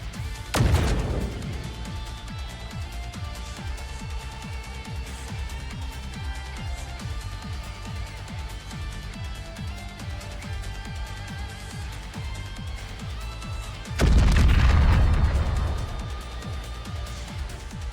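In the video game Goddess of Victory: NIKKE, a matter bomb goes off with a loud crashing blast, then a long rumbling tail under game music. A second heavy impact bursts in near the end.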